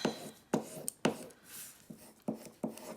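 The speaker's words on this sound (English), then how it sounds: "So flip it over and rub it down." Rub-on transfer being rubbed down over a desk surface, giving a series of short scraping, rubbing strokes at an uneven rhythm, close and fairly quiet with no talking.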